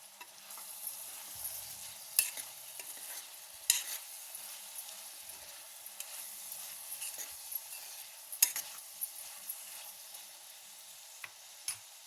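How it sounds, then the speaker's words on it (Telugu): Bottle gourd and green chillies frying in a pan for a coconut curry, with a steady soft sizzle and occasional sharp clicks and scrapes of stirring, close and alone with no talk. "ఇలా మధ్య మధ్యలో కలుపుకుంటూ ఫ్రై చేసుకున్నామండి"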